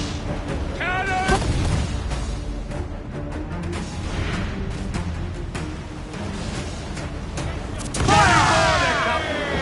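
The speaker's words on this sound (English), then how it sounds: "Cannon!" Cannon fire booms during a naval battle in the video game Assassin's Creed 4, loud deep blasts rolling under continuous game noise and shouting voices.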